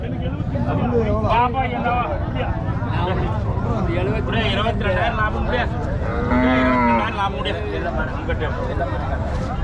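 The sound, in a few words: cattle mooing at a native cattle market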